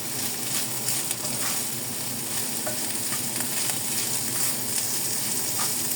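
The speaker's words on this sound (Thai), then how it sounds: "ใส่กะเพราลงไปจ้า ก็ผัดเลย" Holy basil stir-fried in a hot pan for chicken kaprao, a loud continuous sizzle with the scrape of stirring running throughout and no talk.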